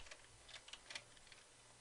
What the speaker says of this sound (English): So I'm just nudging this by using my arrow keys here.